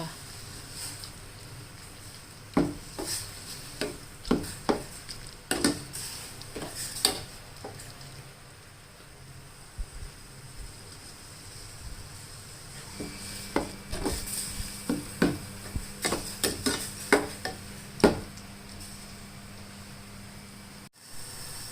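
Minced pork for larb is stirred in a pan until cooked: intermittent spatula scrapes and clacks come in quiet bursts over a low background hiss, with pauses between strokes.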